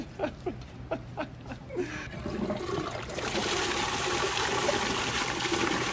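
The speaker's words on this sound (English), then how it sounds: "Half a toilet will flush." Toilet flushing after a waterjet cut it in half: a steady rush of water starts about three seconds in and continues loudly to the end, following a few short scraping sounds and faint laughter.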